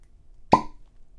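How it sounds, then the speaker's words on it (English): A cork pops from a bottle of Horse Soldier non-chill-filtered 100.6-proof whiskey: a single sharp, close plop with a brief ringing tail, then quiet room tone. "So let's pop the cork"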